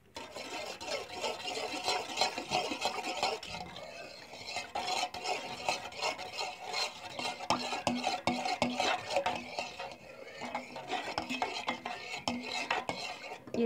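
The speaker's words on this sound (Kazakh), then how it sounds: "Енді біз осыған 2 жұмыртқамызды бірінші біреуін салып жақсылап араластырамыз." Egg is stirred into honey cake dough in a bowl, giving a continuous close scraping and sloshing with soft clinks of the utensil against the bowl, fairly quiet and with no talking.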